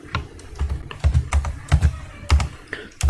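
Fingers type on a computer keyboard in quick, uneven bursts of close, crisp key clicks, with no voice over them.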